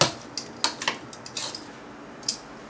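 Seasoned stew beef gets tossed with salt and pepper in a bowl, giving a handful of light clinks and scrapes of utensils against dishware, irregular and close, with quiet gaps between.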